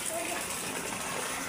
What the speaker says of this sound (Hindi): आप लोग भी बारिश को एंजॉय करें, क्योंकि गर्मी की बारिश है